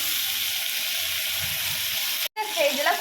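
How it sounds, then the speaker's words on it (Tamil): Onions and tomato sauté in a pan for a South Indian vatha kuzhambu, making a steady close sizzle that cuts off briefly near the end and then resumes alongside a faint voice. "வெங்காயம் நல்லா வதங்கும் போதே நம்ம தக்காளி சேர்த்துக்கலாம்."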